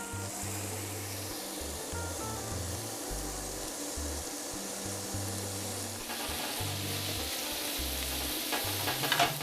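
Sliced onions and garlic cloves sauté in a hot pan on a Pit Boss grill, giving a steady broadband sizzle with rhythmic stirring scrapes throughout, close and fairly loud, with no talking.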